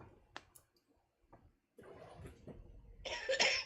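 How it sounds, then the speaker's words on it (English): A person coughs a few times in a quiet room, with short sharp bursts separated by near silence, then a louder rough, throaty burst at the end. "Look at you coughing."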